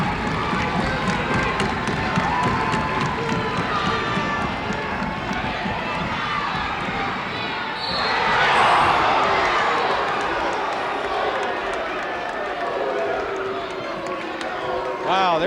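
A basketball arena crowd cheers and roars at a 1995 pro game, swelling briefly midway, beneath steady play-by-play commentary and faint sneaker and court noise.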